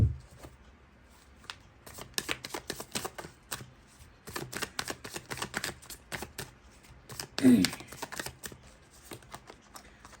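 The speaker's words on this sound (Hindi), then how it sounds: "तो दूसरे डेक से भी मैं ले रही हूँ कुछ कार्ड्स ऐसे" Tarot cards are drawn and handled from a second deck, making quiet, crisp papery flicks and slides in an irregular run, with one louder rustle near the end.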